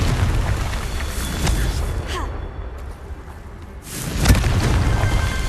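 Confringo blast spell in the video game Hogwarts Legacy: booming explosive bursts over a rumbling game soundscape, with one sharp loud impact near the end after a brief quieter lull.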